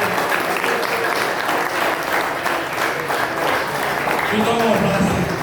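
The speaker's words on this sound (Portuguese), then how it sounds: "As palmas ao Senhor Jesus pela vida do pastor." Church congregation applauding during a thanksgiving service, a dense, steady wash of clapping filling the room throughout, with a voice speaking under it near the end.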